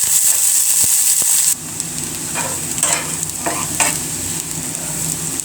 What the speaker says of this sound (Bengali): দিয়ে দিব পেঁয়াজ কুচি, ভালো করে ভেজে নেব।